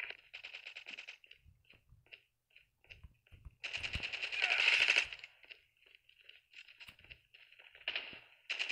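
An automated sentry gun in the Call of Duty Mobile video game fires in rapid, crackling bursts, with a longer sustained volley in the middle and short clipped strings of shots before and after, close and fairly loud.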